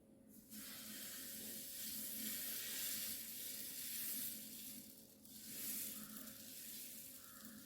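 A dosa cooks on a hot pan that was sprinkled with water. It gives a steady, close sizzling hiss that swells and fades a little over several seconds, with no voices.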